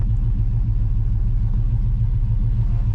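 A cammed LQ4 Silverado idling with its exhaust dumped through open cutouts ahead of the bullet mufflers, a deep, loud, lumpy rumble with a steady choppy lope throughout.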